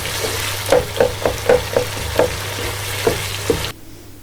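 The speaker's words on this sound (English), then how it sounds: "and let the tomatoes cook." Tomatoes cooking in hot oil for a turnip curry, a steady sizzle with several soft stirring clunks and scrapes of a spoon in the pan, ending in a sudden drop to near quiet.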